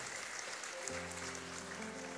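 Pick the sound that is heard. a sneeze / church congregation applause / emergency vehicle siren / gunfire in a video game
church congregation applause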